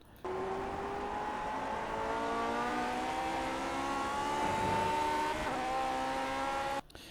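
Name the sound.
Lotus 49 race car engine at Silverstone, iRacing video game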